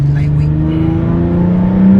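A modified Genesis Coupe 3.8 R-Spec V6 drones loudly from inside the cabin while driving in traffic, a steady heavy engine hum that swells slightly toward the end.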